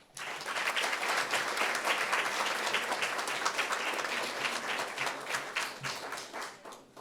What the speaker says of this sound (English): Let's give the students and the sponsors and leadership a round of applause.